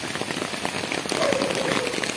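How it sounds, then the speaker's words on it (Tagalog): Heavy rain pours down during a flood as water rises into homes and overflows a street gutter, a dense, close, continuous roar of drops pattering on surfaces. "Lord, sana huminto na yung ulan."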